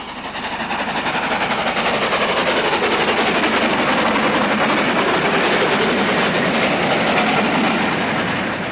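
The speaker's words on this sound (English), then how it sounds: "a Black Five takes advantage of the falling gradient as it speeds south to Leicester" An LMS Black Five steam locomotive speeds south toward Leicester on a falling gradient with a freight train. It gives a loud, steady roar with rapid rhythmic beats and rail clatter, sustained at close range throughout.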